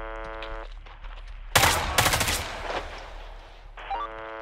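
Gunfire in the tactical shooter Roblox Hellmet: a loud burst of shots rings out mid-clip, followed by a second volley and a decaying tail, with a steady game music tone before and after.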